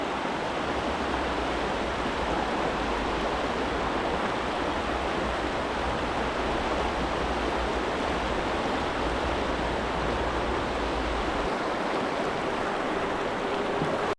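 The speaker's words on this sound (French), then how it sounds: "Il semble que la rivière se réouvre." The Salat river rushes and gurgles in a dense, continuous broadband roar, close and steady throughout with no voices, only briefly easing in its low rumble near the end.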